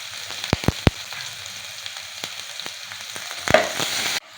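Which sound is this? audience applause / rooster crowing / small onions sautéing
small onions sautéing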